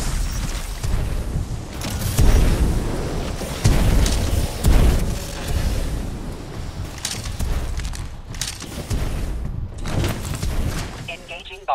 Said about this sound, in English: And try to detonate.